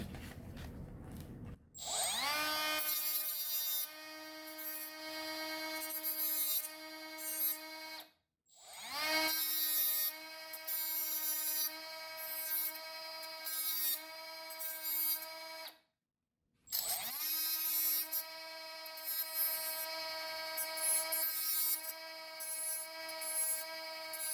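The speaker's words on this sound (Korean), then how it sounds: "이런 로타리 툴이나 이런 그라인더, 여러분 갖고 계시는 일반 그라인더로 이 부분을 정리해 주시면 됩니다" A rotary tool or grinder whines steadily as it smooths a repaired plastic part, running in three long passes separated by brief stops, loud and alone with no talk.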